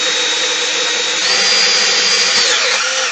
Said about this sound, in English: so drill out our hole